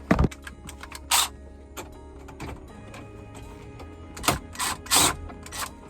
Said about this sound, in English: so now we're just gonna bolt it on